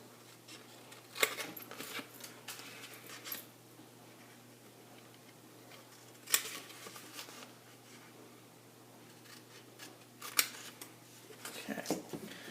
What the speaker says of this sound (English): I'm just going to take some scissors